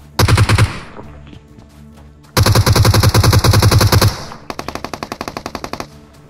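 Automatic gunfire rattles in the BGMI battle royale game: loud, rapid bursts of shots in three clusters, the last one slightly softer, with no voices over them.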